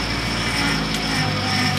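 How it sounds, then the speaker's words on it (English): A Ford Focus power steering pump whines steadily just after the car starts, giving a constant tonal drone over the running engine. "Oh, I hear the power steering."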